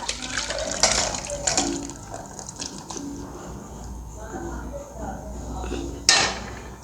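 A kadhai (wok) is washed out with water, giving splashing and running water with metallic scrapes and a couple of louder clanks against the pan, close up.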